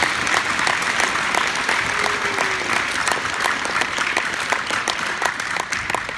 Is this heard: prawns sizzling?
no